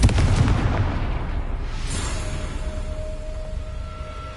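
A Confringo spell blast in Hogwarts Legacy lands as a loud booming impact that rumbles and slowly fades, followed by a thin lingering ringing tone.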